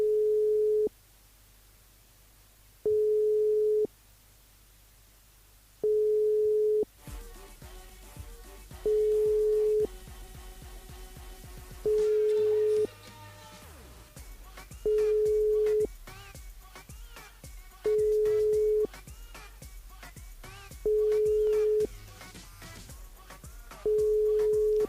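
A telephone line rings with a repeating low tone, about one second on and two seconds off. Music starts playing underneath partway through.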